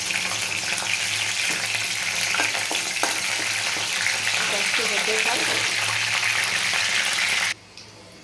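Bay leaves and whole garam masala sizzling in hot oil, a loud steady crackling hiss with occasional pops that cuts off abruptly near the end; a voice speaks over it.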